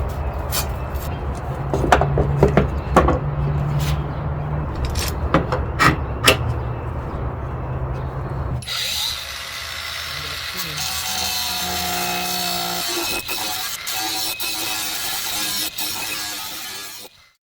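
Cordless angle grinder cutting through metal during a smoker build: a steady, harsh grinding roar starts midway and runs continuously after a stretch of scraping and knocking, with some voice in the background.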